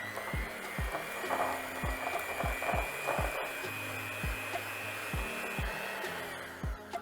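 Red velvet cookie dough being mixed with red food coloring, likely in a stand mixer, a steady whirring hum with a rhythmic series of thumps throughout, close and continuous.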